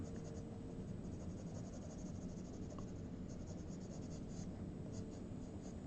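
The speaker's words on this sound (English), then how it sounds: "Let's just keep drawing." Comic artist drawing with a pen, soft continuous scratching of the nib on paper heard faintly beneath a steady background hiss.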